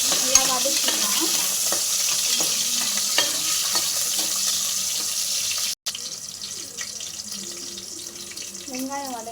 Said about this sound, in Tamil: கொஞ்சம் பூண்டு தேவையான அளவு, வெங்காயம், நல்லா வதக்கிக்கலாம்.